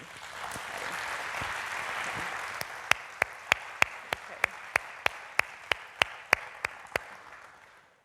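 At a university community lecture, an audience gives warm applause to people standing in the room, steady clapping that gradually thins into a slow, evenly spaced run of a dozen or so sharp single claps.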